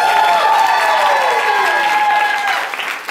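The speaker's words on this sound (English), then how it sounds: "Let's give them a round of applause" A stand-up comedy audience breaks into loud, sustained applause with some cheering for a comedian at a joke-off competition, a dense wall of clapping that holds steady before starting to thin out at the end.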